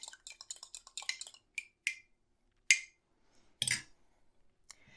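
A whisk works butter into milk for crêpe batter, giving quick clinking taps against the bowl in a rapid burst, then a few isolated louder knocks and scrapes, close and clear without talk.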